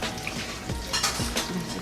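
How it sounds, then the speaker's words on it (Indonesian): Water is poured into a pan holding blue swimming crab, a short splashing, running pour with a few gurgling bursts, close and fairly loud. "kasih Sambil kasih air."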